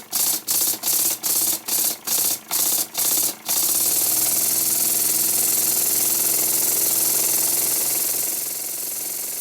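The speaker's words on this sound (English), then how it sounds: "Now it's time to run the engine again." Model steam engine running on compressed air, first a series of eight sharp evenly spaced exhaust beats, then a fast continuous chuffing blur that holds steady and eases slightly near the end.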